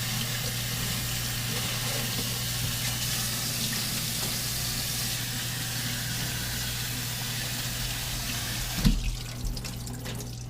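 Tap water runs steadily into a kitchen sink while greens are rinsed beneath it, a constant close wash of flow with a brief louder splash or clatter near the end.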